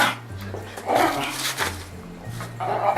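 Several dogs play close by indoors, letting out short barks, yips and whimpers in bursts over a low, steady hum.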